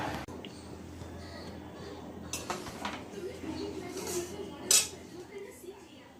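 Metal cookware clinks as a lid is set on a pot of biryani, a few faint clanks and one sharper clink near the end over low kitchen background noise.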